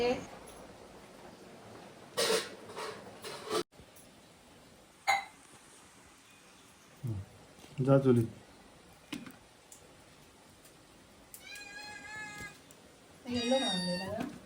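A cat meows several times close by, drawn-out wavering cries near the end, after scattered clicks, thumps and brief human voices.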